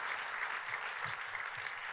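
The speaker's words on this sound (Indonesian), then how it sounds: "Tepuk tangannya pula yang paling meriah buat Tuhan kita." A church congregation applauds, a dense, even wash of clapping hands that holds steady throughout without letting up.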